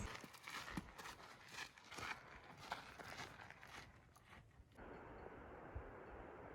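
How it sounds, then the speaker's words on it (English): Donkeys walking along a mountain hiking trail, their hooves clopping faintly and irregularly at a distance amid quiet outdoor ambience, with no one speaking. "They're donkeys."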